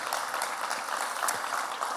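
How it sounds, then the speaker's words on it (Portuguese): A church congregation applauding during a Sunday morning service, steady dense clapping from a crowd that carries evenly through the moment without a break. "Vamos aplaudir a Jesus nessa manhã?"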